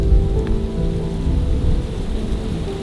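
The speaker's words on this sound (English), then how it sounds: "Our winter storm arrived last night and it's hitting us pretty good today" A winter storm lashes a farmstead with steady rain and wind, a dense, continuous wash of precipitation with low rumbling, loud and close throughout with no voices.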